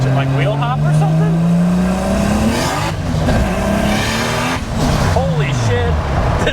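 A 2JZ-swapped Nissan S14 accelerates hard, its engine roaring loud and close as the pitch climbs through the gears with short breaks at each shift, while excited voices talk over it.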